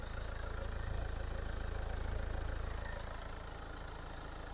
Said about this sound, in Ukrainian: Так працює двигун